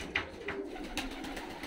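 Fighting pigeons coo repeatedly in a freshly cleaned dovecote aviary in Tbilisi, Georgia, soft low calls recurring under steady background noise.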